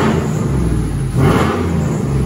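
A once-wrecked GMC Sierra pickup truck idles steadily up close, with a constant engine drone and a high belt whine riding on top, rising briefly in the middle.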